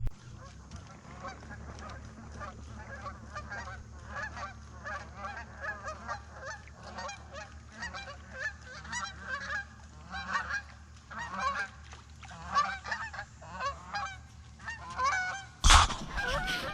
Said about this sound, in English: These geese here were sitting over here in that weed edge, and when they flew out of there,